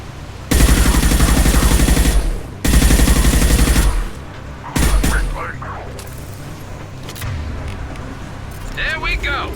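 Rifle fire in the video game Mass Effect 2 comes as two long, loud bursts of rapid automatic shots, then a shorter burst. Quieter game sounds and a speaking voice follow.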